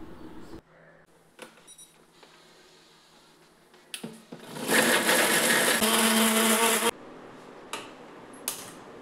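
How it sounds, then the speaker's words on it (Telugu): A kitchen mixer grinder grinds cooled, fried ingredients for a vegetable curry masala. The motor roars loud and close for about three seconds, then cuts off, with a few light clicks and taps before and after. "ఇప్పుడు దీన్ని బాగా కూల్ చేసుకొని గ్రైండ్ చేసి పెట్టుకుంటాం."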